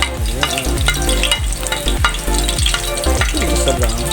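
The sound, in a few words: garlic frying in a pan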